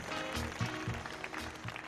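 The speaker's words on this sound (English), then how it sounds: "let's give a big warm round of applause for Charlie Herrera" Applause from an audience at a live youth showcase on a stage, a steady wash of clapping that carries on without a break.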